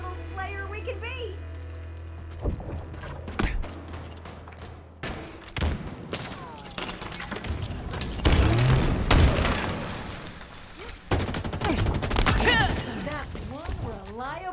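Gunfire from weapons in the Halo Infinite video game pops and thuds in bursts amid busy game effects and whooshes, with a player talking over much of the action.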